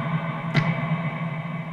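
An electric guitar played through the reverb effect of a Blackstar ID:CORE v3 digital amp, a sustained, washy tone with one brighter attack ringing out into a smooth tail.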